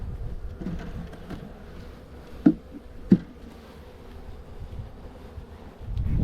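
A honey bee swarm buzzes during a hive transfer, a low, continuous hum close to the microphone. Two sharp knocks interrupt it, and louder handling rumble comes at the end.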